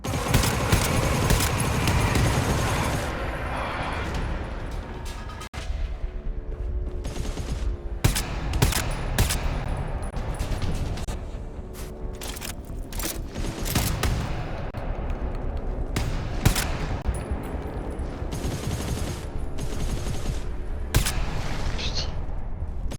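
Guns fire in the co-op shooter game GTFO: sharp, rapid bursts and single cracks go off in uneven clusters, loud and close, with short pauses between volleys.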